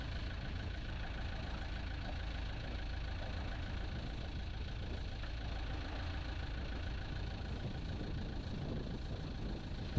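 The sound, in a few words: inboard boat engine idling during flushing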